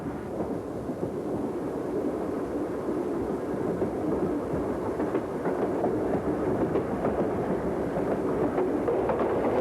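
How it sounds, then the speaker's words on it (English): A train rolls through the Hesperia area of the California high desert at sunset, a steady, continuous low rumble and rail roar running without break from start to finish, with no voices. "Sunset finds our train near Hesperia, heading out toward the big desert."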